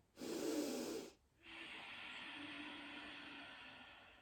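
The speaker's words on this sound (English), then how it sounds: "Breathing here." A yoga practitioner breathes through a pose, with one strong, close breath that cuts off sharply, followed after a short pause by a long, steady, softer exhale.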